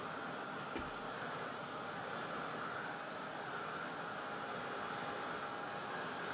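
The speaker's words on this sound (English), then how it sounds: "This little heat gun is very effective." A Ranger heat gun blows hot air to dry watercolor paint on a painting, a steady, continuous airy whoosh held at an even level throughout, with no speech over it.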